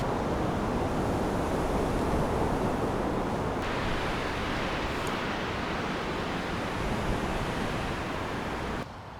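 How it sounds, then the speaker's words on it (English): Strong wind roars steadily across an exposed tarp tent camp, a dense, constant gusting rush with no voices, easing slightly near the end. "that wind is whipping"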